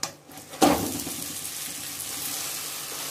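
A Mughlai paratha fries in oil in a kadhai, starting with a sharp sizzling burst, then settling into a steady, soft, close crackle with no talk.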